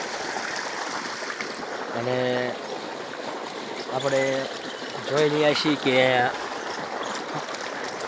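Irrigation water runs steadily through a black sesame field, a continuous rushing flow heard throughout while someone speaks over it in short bursts.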